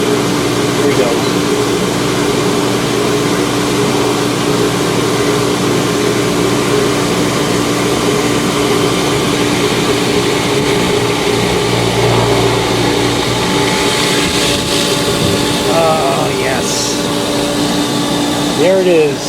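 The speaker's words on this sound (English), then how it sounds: "Both pool pumps and both ACs running." Two swimming pool pumps and two air conditioners run together at a house in summer, making a loud, unbroken mechanical drone with a steady hum that continues for the whole stretch, with a few faint extra noises near the end.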